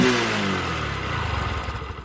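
Bajaj Discover 100 commuter motorcycle, engine overdue for service, revving close up then settling into a low, steady thumping idle.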